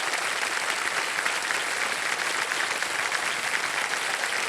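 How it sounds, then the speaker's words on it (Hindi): Studio audience applause on a televised quiz show, a dense, continuous roar of clapping at steady loudness with no speech over it. "तालियां बज जाएं इनके लिए।"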